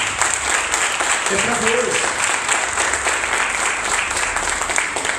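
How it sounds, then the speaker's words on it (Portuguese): Church congregation applauding together in a sustained, dense wash of clapping that fills the space, with a preacher's voice speaking briefly over it. "Você pode aplaudir ao Senhor por isso?"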